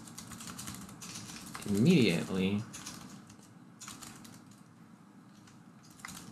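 Typing on a computer keyboard, a quick run of light key clicks at a desk, briefly interrupted by someone speaking before the tapping resumes faintly.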